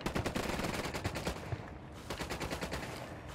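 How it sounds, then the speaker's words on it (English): Rapid, sustained automatic gunfire from the video game Ghost Recon Wildlands, loud and dense bursts of shots rattling almost continuously with a brief lull midway. "Opening fire on these fuckers"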